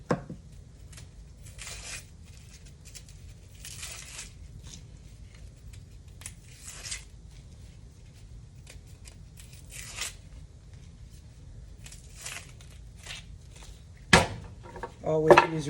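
A kitchen knife cuts through a red onion, a series of soft crisp cuts and slices spread across a quiet stretch with low background hum, and a louder clatter of handling near the end.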